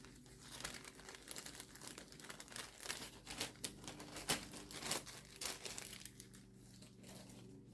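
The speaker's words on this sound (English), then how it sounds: "I wanted to move the paper around a little bit there" Paper for English paper piecing a fabric hexie is shifted around by hand, giving soft, close crinkling and rustling in irregular bursts against a quiet room.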